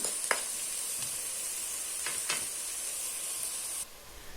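Onions frying in a pan for fennel dolma in white sauce give a steady close sizzle with a few stir scrapes and clicks, then the hiss drops away sharply near the end.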